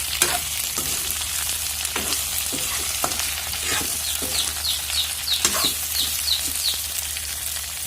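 Chopped onion goes into meat frying in a pan, giving a continuous close sizzle broken by irregular scrapes and knocks of stirring; a rooster crows faintly in the distance.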